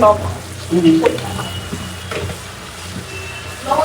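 Garlic and spices fry in a pan with a soft, steady sizzle and scraping stir, under a voice talking briefly.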